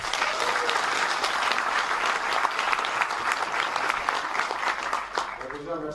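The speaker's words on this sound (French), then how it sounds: "merci d'applaudir Larif" A festival audience applauds its founder with sustained, dense clapping over about six seconds, loud and even, fading toward the end as a voice begins to speak.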